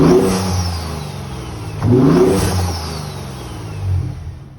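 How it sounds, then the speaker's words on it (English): Ford Raptor engine fitted with a K&N cold air intake revs loudly and close up, two strong throttle blips swelling over a steady idle rumble, with no voices. "So as you can see, the intake does sound very good."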